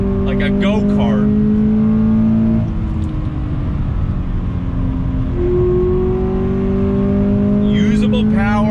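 A 2020 Toyota 86 Hakone Edition engine revs hard while driving, rising and shifting pitch through the gears, loud and close from inside the cabin, with brief tire or wind noise.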